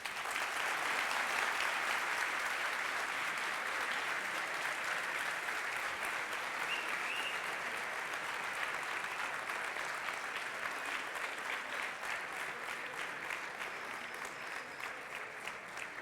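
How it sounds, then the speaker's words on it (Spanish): Audience at a university talk breaks into sustained applause, a dense wash of clapping that stays strong throughout and tapers only slightly toward the end, with no speech over it. "ahora pues por educación un aplauso"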